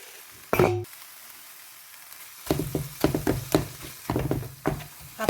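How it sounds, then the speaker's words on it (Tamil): Spoon stirring snake gourd with grated carrot and onion in a pan, giving a series of close scraping strokes with a soft sizzle, after one sharp clink near the start. "அப்படியே கிளறி விடணும்."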